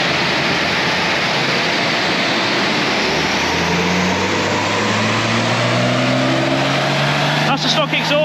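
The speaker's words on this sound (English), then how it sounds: "That's the stock exhaust, that is." A Peugeot 407 Coupe with its stock exhaust, revving hard through a power run: a loud, sustained engine roar whose tone climbs steadily as it winds up, then cuts abruptly near the end.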